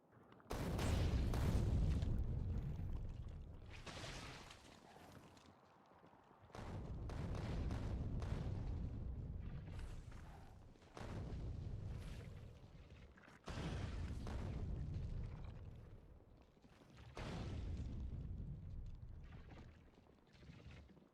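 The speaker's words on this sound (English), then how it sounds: "I think this base could use some hugs from artillery." Artillery shells from Factorio blasting an enemy base, a run of heavy, booming explosions in overlapping bursts with short pauses between them, loud and close.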